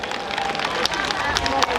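Audience at a Miss Gambia 2022 pageant applauding, a dense, steady patter of clapping from a crowd with cheering and babble mixed in, moderately loud throughout.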